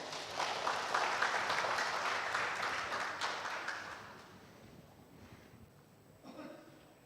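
A congregation applauds during a Batak-language Sunday church service, a dense sustained clapping that fades after about four seconds, leaving quiet room tone and a brief voice near the end.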